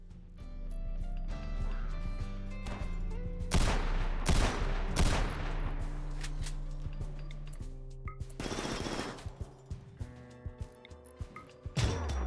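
Gunfire in the RimWorld video game, heard as a few sharp, loud shot cracks and thumps over a steady musical background, with lighter clicks and taps near the end.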